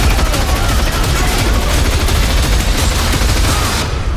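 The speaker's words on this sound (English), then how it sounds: "Shooting guns." Dense, loud gunfire from a movie trailer, rapid overlapping shots forming a continuous fusillade that fills the whole stretch.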